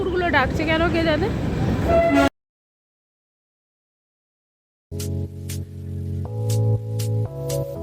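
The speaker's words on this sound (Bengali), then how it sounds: "আরও যখন না আরও হর্ন দিচ্ছে ট্রেনটা" Darjeeling toy train horn sounding on a downhill run from Darjeeling to NJP, several short toots in a row after a stretch of speech and silence, with engine rumble underneath.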